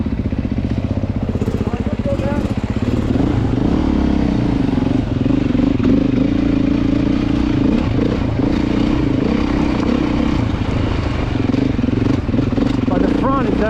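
A 2024 Beta dirt bike motorcycle rides over rough terrain, engine droning loud and steady with clattering and scraping throughout, while a rider talks over the noise.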